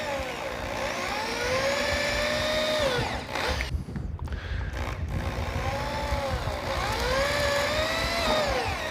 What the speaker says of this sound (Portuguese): Então eu estou fazendo os furos para a gente adiantar e facilitar essa remoção.